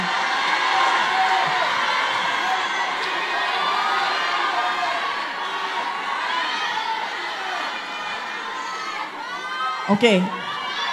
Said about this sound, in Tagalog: Tatagal tayo sa sigawan ninyo, sandali lang.